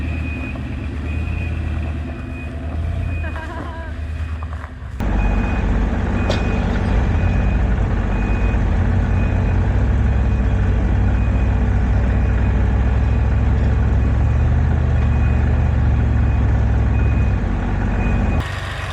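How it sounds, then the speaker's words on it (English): A tractor pushes an old van backward toward a driveway. A loud, steady engine drone runs throughout, with a regular high reversing beep pulsing over it, and the machinery grows louder partway through. "between the two machines, we got it backed up all the way back to the driveway"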